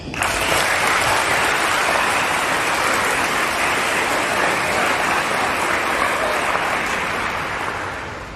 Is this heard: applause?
yes